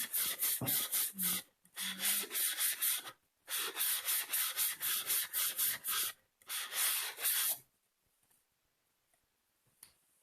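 A fine 400 grit block rubs across a cup rim in quick repeated strokes, bursts of rasping friction separated by short pauses, ending in near silence with a light tap.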